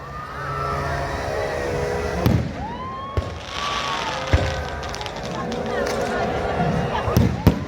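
Fireworks at the Red Fort Ramlila in Delhi, 2023: whistling rockets rise and sharp bangs crack over a steady crowd din, with voices mixed in throughout.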